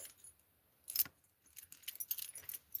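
Handcuff keys jangle in bursts as they are handled, a sharp metallic clink near the start followed by a longer run of rattling jingles, close and fairly quiet with no talking.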